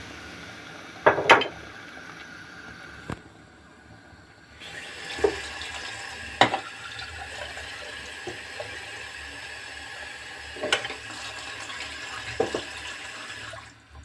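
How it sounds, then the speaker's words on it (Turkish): Water from a tap splashes into a cooking pot of okra and sauce, with a steady rushing flow broken by a few louder clinks and splashes, close by in a kitchen, without voices. "Şimdi bir litre su ilave ettim."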